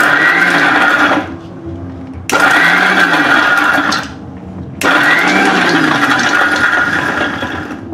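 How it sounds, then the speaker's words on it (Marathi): A kitchen mixer grinder crushes fresh mint leaves for green chutney without water, whirring loudly in three bursts separated by short pauses, close up with no talking. "आता आपण मिक्सर चालू करून घेऊ."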